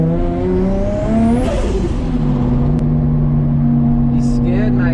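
Nissan R33 with a 2.5-litre RB25DET making about 550 hp, revving hard on a mountain touge run, a loud continuous engine drone with rising and shifting pitch and a rattly blow-off near the end.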